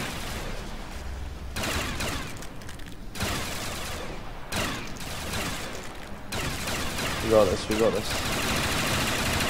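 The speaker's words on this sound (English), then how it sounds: "Sounds like an LMG sort of." Rapid gunfire from a light machine gun in World at War custom zombies on a reimagined Nacht map, bursts crackling through the mix while players talk over the shooting.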